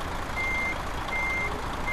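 A Kenworth K100 truck reversing in Euro Truck Simulator 2, its steady high reversing beeps repeating at regular intervals over a constant engine rumble, with no one speaking.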